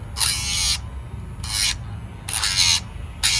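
A small electric nail grinder buzzes in four short bursts against a dog's nails during at-home grooming, each burst about half a second long with quiet gaps between.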